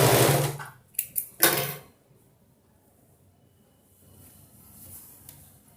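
A sewing machine stitching a high-low skirt with a waist belt, running in a loud whirring burst at the start and again briefly, then falling nearly quiet with faint handling noise.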